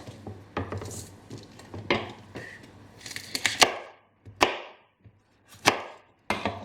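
Knife chopping vegetables into large chunks on a cutting board while preparing a Bangladeshi vegetable curry, a series of sharp, close, irregular thunks and scrapes with quiet pauses between cuts.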